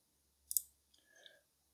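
Computer mouse clicks while opening a file in Shotcut editing software: a quick loud double click followed by a fainter, softer rustle of clicks, close up with no talk.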